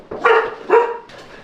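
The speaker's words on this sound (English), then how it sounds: "a really scary dog" A dog gives two loud, close barks in quick succession, followed by a softer third bark.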